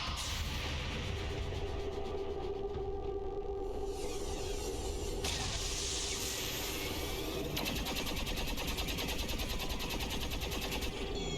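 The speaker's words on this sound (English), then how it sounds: "Plasma bullets going out to Cydonia." Plasma gun fire in the alien-combat game XCOM, a sustained, loud stream of buzzing energy shots with whooshing bursts that rises and changes texture partway through, with no talk.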